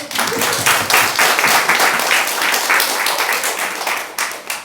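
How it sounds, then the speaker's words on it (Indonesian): Sustained audience applause at a CSF anniversary celebration, a dense, steady wash of many hands clapping, loud and close, holding for several seconds before thinning slightly near the end. "Kita tepuk tangan dulu"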